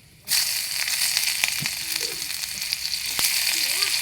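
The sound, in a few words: onions sizzling in hot oil in a kadai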